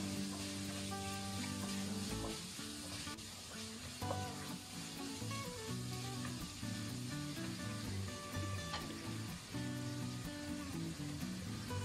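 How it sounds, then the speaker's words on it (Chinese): Pork slices sizzle and crackle in a wok while chili, scallion and ginger are stir-fried, a steady bright frying hiss with occasional scraping stirs, heard faintly under soft background music. "炒至肉片变色了以后，下入小米椒、葱花和姜末，"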